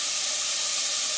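Vegetables sweat gently in a pan without browning, a steady soft sizzling hiss that runs evenly and close before cutting off abruptly.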